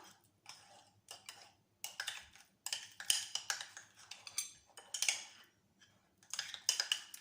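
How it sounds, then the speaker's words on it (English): Cream cheese mixed with food colouring is stirred in a bowl with a utensil, making quick, irregular clinks and scrapes in short bursts, close up and fairly quiet with no voices. "I'm just going to give this a stir to make my pinky red colour"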